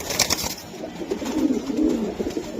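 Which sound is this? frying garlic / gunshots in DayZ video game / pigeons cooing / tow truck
pigeons cooing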